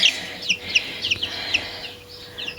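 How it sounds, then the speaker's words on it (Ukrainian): Small week-old chicks peep in quick, high, chirping bursts with a few soft clucks, close by and steady across the moment, with no talking. "Ось таке малесеньке курчатку."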